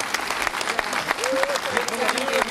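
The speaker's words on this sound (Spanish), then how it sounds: "reiteremos este aplauso para un importante momento" Sustained audience applause for the first lady during her visit to San Carlos, with a crowd clapping steadily while an announcer speaks over it.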